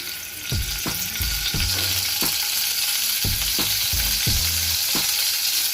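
Garlic, dried chillies and onion frying in a pan for a sour lentil dish with raw tamarind, loud close sizzling broken by repeated scraping stirs in an uneven rhythm, with no talk.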